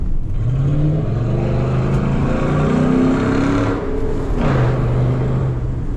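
2014 Ford SVT Raptor truck engine revving at low RPM, a loud, deep growl that rises, eases off and picks up again, heard close from inside the cab with no talk.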